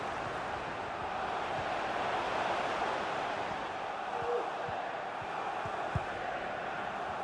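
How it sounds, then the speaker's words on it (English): A football crowd at the Etihad Stadium during Manchester City vs Chelsea in the FA Cup, a steady broad roar of many voices holding at an even level throughout, with a few sharp thuds and shouts poking through the wash of noise. "the crowd are willing them to score here"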